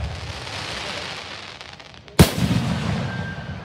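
A single sharp firework burst cracks out loud and close at a small-town Illinois fireworks show, following steady crowd and background noise, then leaving a rumbling tail with a faint whistle.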